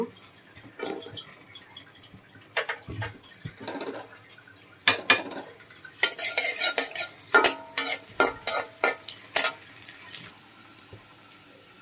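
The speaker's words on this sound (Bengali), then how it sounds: "জিরা, গোটা জিরা, রসুন আর শুকনো মরিচ। তেলের মধ্যে আমি এখন এটা দিয়ে দিচ্ছি।" Whole cumin, garlic and dried chilies hit hot oil, giving scattered sizzling bursts mixed with light clinks of a utensil against the pan, growing busier and louder toward the end.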